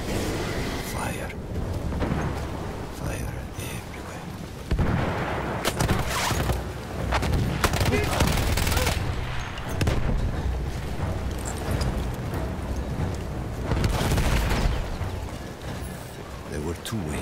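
Battlefield 1 combat with repeated heavy gunfire and booming blasts across a dense battle din, bursts swelling around the middle and again near the end, with game voices mixed in.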